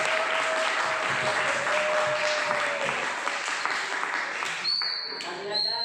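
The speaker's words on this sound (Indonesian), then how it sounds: "Tepuk tangan untuk Mas Fuad." Audience applause at a young preachers' competition at SMPIT Ibnu Mas'ud, a broad sustained clapping from many hands filling the room for several seconds, with voices talking over it before it fades and a tone rings out.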